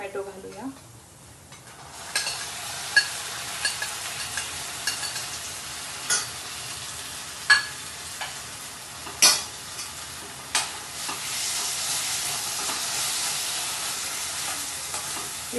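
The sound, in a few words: chopped tomatoes sautéing in a pan for pizza sauce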